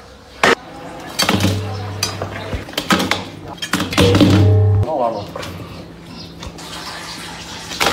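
Water runs from a tap while pig skin is washed in a kitchen, a splashing wash mixed with clattering dishes and utensil knocks, with a person talking over it.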